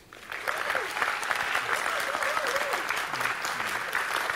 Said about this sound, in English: applause for this team